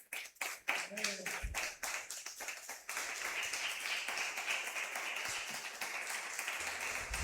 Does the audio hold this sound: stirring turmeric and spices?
no